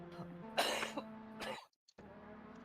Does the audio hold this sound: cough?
yes